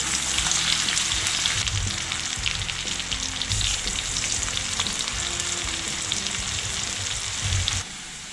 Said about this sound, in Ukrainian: Тепер додаю нарізану одну велику цибулю. Або дві маленьких беріть. І підсмажую разом зі шкварками.